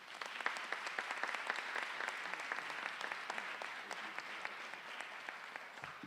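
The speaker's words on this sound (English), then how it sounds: "Please give a round of applause for our moderator for the evening" An audience at a debate evening gives a round of applause for the moderator: many individual claps, crisp but fairly soft and a little distant, sustained evenly for about six seconds.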